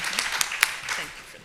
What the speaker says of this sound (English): I just want to give them a hand clap again for what they do